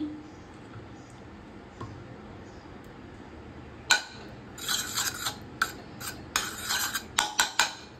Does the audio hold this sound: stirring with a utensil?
yes